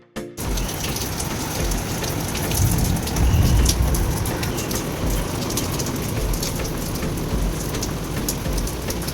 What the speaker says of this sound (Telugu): లంచ్ చేసి అలా రూమ్కి వచ్చేలోపు పెద్ద వర్షం అయితే స్టార్ట్ అయింది